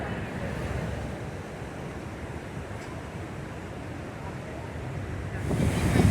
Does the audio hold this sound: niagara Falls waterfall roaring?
yes